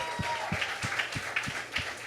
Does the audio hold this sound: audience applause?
yes